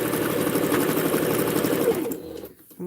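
Sewing machine stitching quilt binding with overlapping threads, a steady rapid mechanical whir running close and loud for about two seconds before stopping abruptly, leaving near silence.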